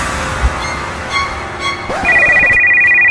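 A cellphone ringtone starts partway through and keeps going as a steady, loud electronic tone over faint background noise and scattered movement.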